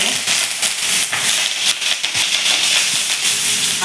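Mustard seeds, cumin, asafoetida and curry leaves sizzle in hot oil for a potato stir-fry tempering, a loud, steady hiss of frying crackle that fills the whole stretch without a break.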